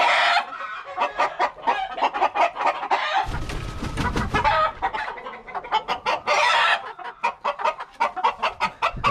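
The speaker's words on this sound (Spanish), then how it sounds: "Aquí está el gallo y aquí está la gallina." Chickens cluck in quick rhythmic bursts up close, with a louder rooster-like call breaking in partway through; no talking.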